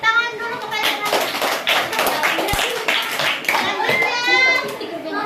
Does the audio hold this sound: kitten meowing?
no